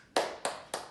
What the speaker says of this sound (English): Let's clap your hands.